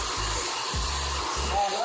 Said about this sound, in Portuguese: Esse secador aqui, ele é 2300 watts, tá? Então ele é muito forte.